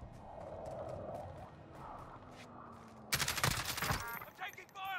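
PUBG gunfire: a sudden loud burst of rapid automatic shots cracks out close by, trailing into echoing reports, after stretches of voices talking over game sounds.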